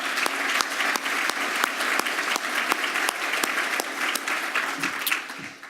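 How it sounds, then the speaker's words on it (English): Conference audience applauding a panel, a sustained round of many hands clapping at moderate volume in a hall, even and continuous before tapering off at the close. "So let's give them one more round of applause."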